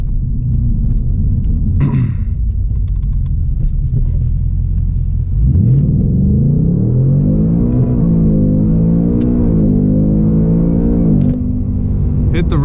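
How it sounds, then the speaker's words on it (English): A 2024 Ford Mustang Mach 1 V8 roars up through the revs in a hard launch, holding a loud, buzzing drone against the rev limiter for several seconds before the engine note drops away. "Hit the rev limiter again."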